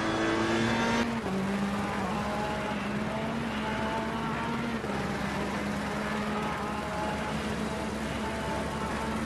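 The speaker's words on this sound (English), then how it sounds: "And accelerating out of the corner," A race car accelerates out of a hairpin corner on track, its engine note climbing through gears with a gear change early on, loud and close with a continuous roar.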